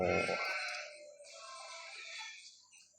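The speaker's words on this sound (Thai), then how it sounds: "มีแกะใช่ไหมฮะ" A sheep in the animal survival game The Wolf gives a single wavering, nasal bleat after a brief low thump, clear and close, fading out alone.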